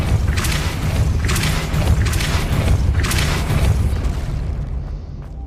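In the Hogwarts Legacy video game, a Depulso spell is cast with a burst of deep booming thumps and bright crackling blasts in repeated surges, loud and close, before fading toward the end.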